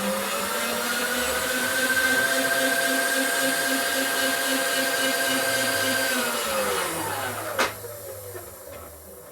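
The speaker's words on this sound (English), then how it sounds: "Pretty good chamfer going there now." A machine chamfers an Evo Sportster big-bore motor case, giving a steady, loud whining hum with layered harmonic tones. It holds level for about six seconds, then winds down, with a brief sharp click near the end.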